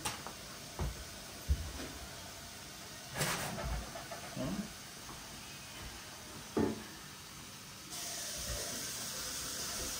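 A gas stove burner is lit for cooking leek and potato soup: a few knocks and clatters, then a steady hiss of gas flame that begins abruptly and continues to the end.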